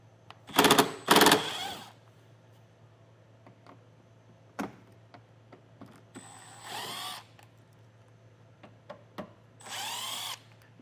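A cordless power tool spins out T25 screws beneath a 2021 Audi Q3, firing in several short whirring bursts separated by quiet pauses, each burst rising in pitch, close and clear, with small clicks in between.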